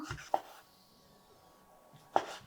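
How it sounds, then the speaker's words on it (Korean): A knife cuts through boiled pork suyuk on a board in two sharp, close, fairly quiet strokes roughly two seconds apart, with near silence between them and no talking. "수육을 썰어 보도록 할게요"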